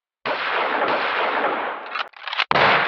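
A radio-drama sound effect: a long, dense roar of gunfire standing in for a shotgun, broken by a brief gap and then a renewed burst, with no voices.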